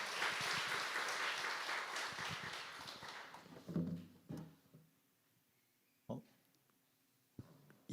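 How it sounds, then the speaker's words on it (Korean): Applause welcoming a speaker at a church evangelism camp forum, a brief burst of clapping from a modest audience that quickly dies away into quiet. A few scattered thumps and knocks follow. "박수로 환영하겠습니다."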